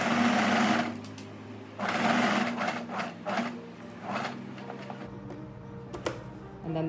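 A sewing machine stitches fabric in short close bursts of rapid whirring, stopping and starting several times with pauses between runs, followed by light clicks and handling noises.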